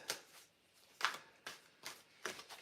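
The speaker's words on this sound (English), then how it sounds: "shuffling my cards." Playing cards being shuffled in several quick riffling bursts, each a short crisp flutter with brief pauses between, close and fairly quiet.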